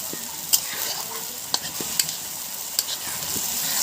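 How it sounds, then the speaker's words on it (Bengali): Steady oily sizzle of chili paste frying with onions with a few sharp scrapes and clacks of a spatula stirring the pan, close and fairly quiet. "ভালো করে ভেজে নিয়েছি লঙ্কা পেঁয়াজ"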